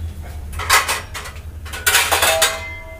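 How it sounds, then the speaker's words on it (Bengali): Metal lid set onto a cooking pot of boiling eggs in a home kitchen: two short bursts of clattering metal clinks, close and fairly loud, over a low steady hum. "এটা ঢাকনা দিয়ে দাও তো।"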